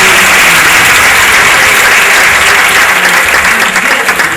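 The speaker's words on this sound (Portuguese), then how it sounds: "Vamos aplaudir o Senhor mais uma vez." Church congregation applauding during a Portuguese-language service, a loud, dense, continuous wash of clapping from a large crowd that holds steady throughout.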